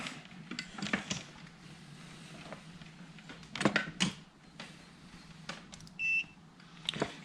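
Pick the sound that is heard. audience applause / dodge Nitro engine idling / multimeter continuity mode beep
multimeter continuity mode beep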